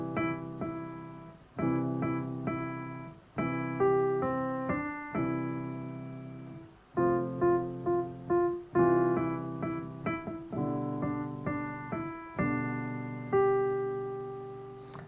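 Piano playing Jingle Bells in simple beginner-level form, with the melody over sustained chords, phrases repeating in steady rhythm with short breaks between them; close and clear, with no talk.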